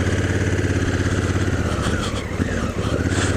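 Honda CRF1000L Africa Twin riding off road, its engine a close, loud, steady throb with a smooth pulsing rhythm, briefly dipping and rising as the throttle shifts, no talk.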